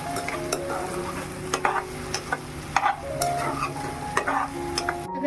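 Brinjal with masala and crushed peanuts for village-style khar vanga is stirred in a pan, with repeated scraping and clinking spatula strokes over a steady close sizzle and no talking.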